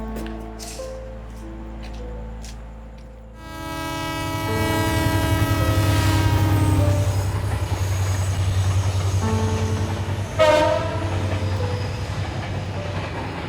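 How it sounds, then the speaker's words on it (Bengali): A train horn sounds as a train rumbles past close by, its heavy steady roar building, then a second loud horn blast rings out. "এই ট্রেনটা মনে হয় যাবে"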